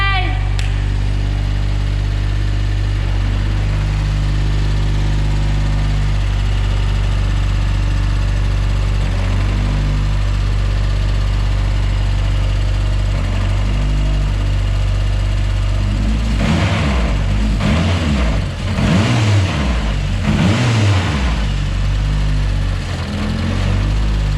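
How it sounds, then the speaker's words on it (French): A Renault Clio Cup racing car on slick tyres runs with a steady, loud engine drone, growing rougher and more uneven near the end as it revs, with no talk over it. "Ça tourne bien, c'est une Renault mais ça tourne comme une merveille."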